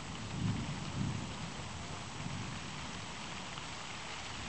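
Steady rain falls throughout a summer thunderstorm, a dense constant hiss with a couple of low rumbling swells near the start.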